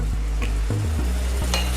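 Creamy Tuscan chicken sauce with sundried tomatoes bubbles and sizzles in a pan, a steady frying hiss broken by a few low clunks of a utensil stirring against the pan, close and alone.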